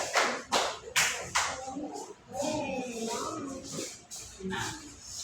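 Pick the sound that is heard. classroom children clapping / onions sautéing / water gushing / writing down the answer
classroom children clapping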